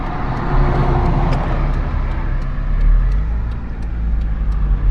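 A Daewoo Lanos 1.5 SE drives onto a highway, heard from inside the cabin as a steady low engine drone and road rumble that swells slightly as it accelerates, with faint ticking above it and no talking.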